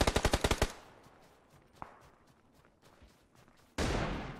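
Video game gunfire: a rapid burst of about seven loud automatic shots opens, followed by quieter distant pops and a single sharp crack, then another heavy burst of fire near the end.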